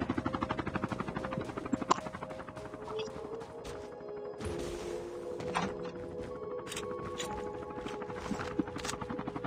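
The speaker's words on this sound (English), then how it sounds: "We got a chopper." Military helicopter in the Call of Duty Mobile battle royale game, a steady rotor whir running through the whole stretch amid footsteps and scattered in-game clatter.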